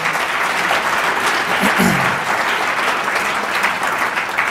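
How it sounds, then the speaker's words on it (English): An audience applauding a keynote speaker at an award event, a dense and steady roar of clapping from many hands that holds at an even loudness throughout. "Can we give another round of applause?"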